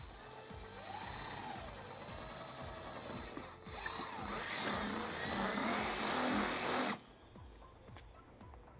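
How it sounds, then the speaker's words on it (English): A power drill with a 3/16 bit whirs steadily, its pitch rising as it bites into a 2020 GMC Terrain bumper, then cuts off abruptly, leaving quiet background hum. "we're going to drill our first hole"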